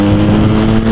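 A motorcycle engine accelerates hard while joining a 70 mph road, a loud, close, steady roar with strong low harmonics held for a moment, no voices over it.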